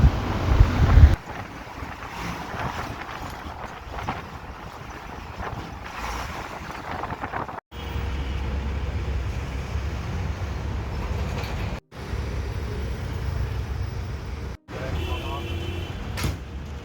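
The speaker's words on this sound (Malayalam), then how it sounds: "നമ്മുടെ ബസ് ഇപ്പോൾ അതിൻ്റെ മുകളിൽ കൂടെ ഇങ്ങനെ പോയിക്കൊണ്ടിരിക്കുകയാണ്" A KSRTC bus rolls over the Aluva bridge with a steady low road and engine rumble heard from inside the cabin, mixed with wind buffeting, and the sound drops out briefly several times.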